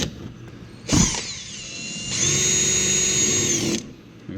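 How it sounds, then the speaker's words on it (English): Power drill driving a 6mm bit into the plastic fender flare of a 2019-2021 Ford Ranger, with a short whining burst, a pause, then a longer steady high-pitched spin before it stops, close and loud. "we're just going to screw a hole right into the fender flare here"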